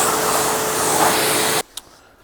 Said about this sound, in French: Donc maintenant rinçage final avant le séchage.